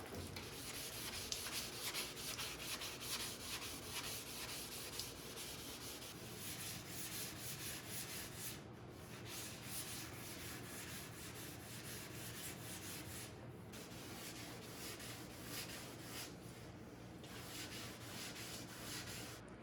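Steady rubbing strokes come from wet sanding a 1973 Toyota Celica door jamb with 600 grit paper folded around a Scotch-Brite pad. The close, continuous back-and-forth scrubbing is broken by two brief pauses.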